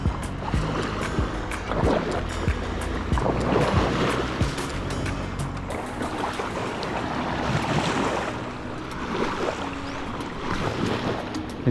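Sea surf along Boracay beach in the Philippines, a steady broadband wash of breaking waves with wind noise and occasional boat-like rumble, constant and fairly loud throughout.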